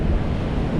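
Strong surf pounds a Philippine beach during Typhoon Karina, a steady, loud roar of crashing waves mixed with buffeting wind noise on the microphone, with no break across the short stretch.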